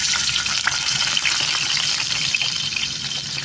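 Chicken sizzles and crackles in hot oil, a steady dense frying hiss with small pops, close up and without talk.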